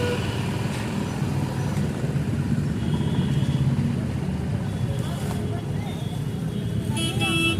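A car rumbles steadily on a road in a village setting, its low engine and road noise continuous throughout, with a brief horn-like tone near the end and people talking over it.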